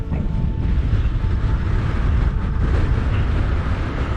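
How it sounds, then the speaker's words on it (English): Strong gusting wind on the exposed upper slopes of Galtymore mountain ahead of incoming rain, a steady loud roar buffeting the microphone throughout with no voices. "Unbelievably windy."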